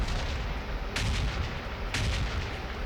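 Two sharp grenade blasts in the mobile shooter PUBG Mobile Lite, about a second apart, each a loud burst over steady game background noise.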